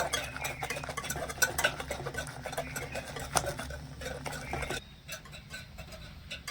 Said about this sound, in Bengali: একটা হুইক্স দিয়ে একটু ভালো করে গুঁড়ো দুধটা মিশিয়ে নেব